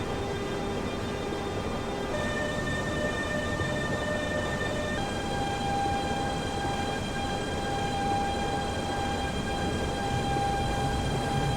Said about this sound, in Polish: posłuchamy jeszcze raz, jak ta lokomotywa brzmi w Train Simulator Classic